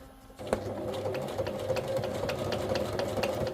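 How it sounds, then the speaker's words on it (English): Sewing machine straining to stitch through thick journal cover material, a close rapid mechanical whir with a regular clicking needle rhythm running steadily after a brief start. "Try and get my sewing machine a bit more sturdy. There we go. I've got to sort of like push it through. It's super thick."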